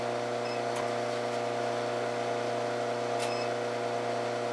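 An induction heater hums steadily while heating small steel stock for forge welding a wheat twist. The tone is a constant, fairly quiet electrical drone with a couple of faint clicks.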